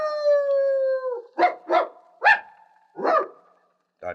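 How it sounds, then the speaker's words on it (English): A Dalmatian lets out one long howl, then a few short barks and a yip, close by and otherwise alone. "That's one long howl, 2 short, 1 yip and a woof."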